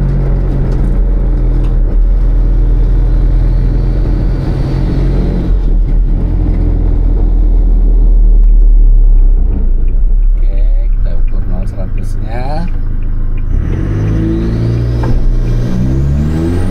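A Toyota Hilux accelerates hard from standstill toward 100 km/h at the Mandalika circuit, its engine note loud and close, climbing steadily with gear changes near the end.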